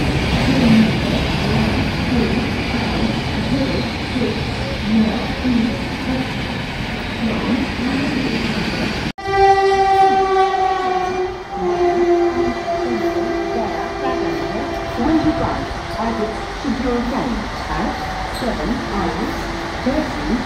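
A Vande Bharat Express train pulls out of Anand Vihar Terminal, with steady loud rail rumble and station noise, a sharp cut midway, then a long tonal horn blast sounding over the continuing clatter while people talk.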